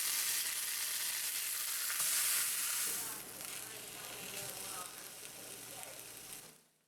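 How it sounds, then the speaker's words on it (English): Chopped onions caramelizing in a pan make a steady, dense sizzle and crackle that holds for most of the stretch, then drops away abruptly near the end. "This gave us plenty of time to caramelize some chopped onions."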